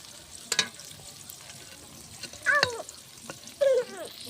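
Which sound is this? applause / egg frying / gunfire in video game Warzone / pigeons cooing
egg frying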